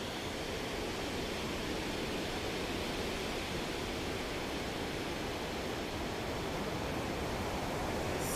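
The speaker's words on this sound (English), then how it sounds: "Listen to the sounds of the beach." Beach ocean waves heard as a steady, broad wash of surf, even and unbroken throughout, fairly soft and distant, with no voices.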